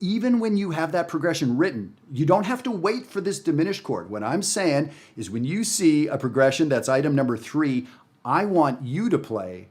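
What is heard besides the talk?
No distinct noise like a dog, phone or traffic.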